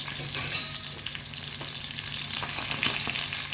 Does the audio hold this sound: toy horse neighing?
no